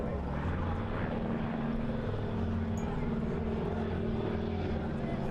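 Aircraft at an air display drone steadily overhead, a continuous loud engine roar with a smooth, sustained tone and no clear pauses.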